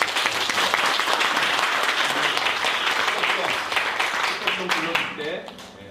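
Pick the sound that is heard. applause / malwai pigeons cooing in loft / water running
applause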